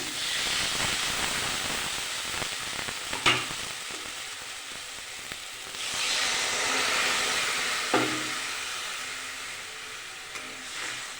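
Water poured into hot frying masala for an egg curry sets off a loud steady sizzle and hiss, swelling and easing over several seconds with a few sharp clatters of stirring.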